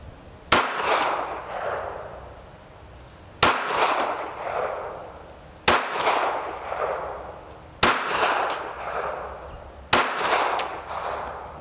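A KelTec PMR 30 semi-automatic pistol in .22 Magnum fires five evenly spaced single shots at a 15-yard target, each a sharp, loud crack with a short ringing decay, heard alone with no talking.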